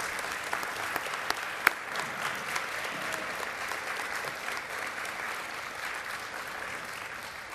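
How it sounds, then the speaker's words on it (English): An audience at a homecoming alumni awards dinner applauds honorees, a steady wash of clapping from a large crowd running throughout, with a few sharper claps standing out. "Let's give them all one more round of applause."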